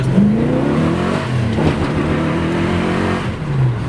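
A muscle car revs hard and accelerates while spinning its tires, the engine roaring loud and close with a rising, rough growl and tire noise, and no talk over it.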